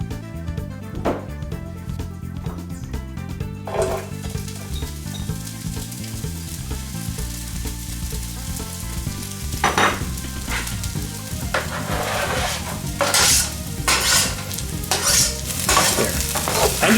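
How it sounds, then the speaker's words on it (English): Onion and garlic sizzle steadily in a hot pan while being stirred for shrimp pad thai with softened noodles, scraping stir strokes cutting through the frying hiss and growing louder toward the end. "throw in your onion and your garlic at the same time, stir them up"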